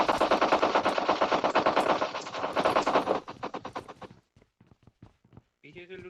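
Gunfire in a battle royale video game: dense rapid automatic bursts hammer on for about three seconds, then thin out into scattered single shots and a short sound near the end.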